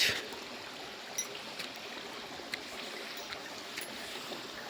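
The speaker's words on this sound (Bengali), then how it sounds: "সুন্দর একটা নিস্তব্ধ জায়গা, জলের আওয়াজ" Water flows at Ghagheshwari, a quiet spot, as a soft, steady rushing hiss that stays faint and unbroken, with a few small clicks and no voices.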